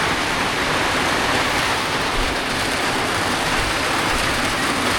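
Steady, dense rain pours outside in a village during a downpour, a loud continuous hiss that fills the whole stretch without letup or voices.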